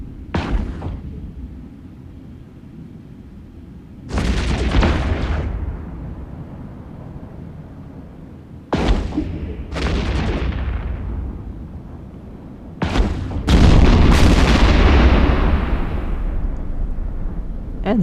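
Heavy explosions and booming blasts from the EVE Echoes space battle in which the Myrmidon spaceship is destroyed, arriving as several loud separate bursts with rumbling tails, the last one biggest and sustained.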